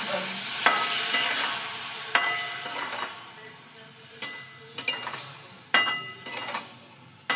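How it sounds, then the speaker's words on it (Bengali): Beaten sour yogurt being stirred into a potato masala for a cauliflower kofta curry, giving a soft continuous stirring and light sizzle with several sharp clinks of a utensil against the pan. "দেখো ফেটিয়ে রাখা টক দইটা আমি এতে দিয়ে দিচ্ছি।"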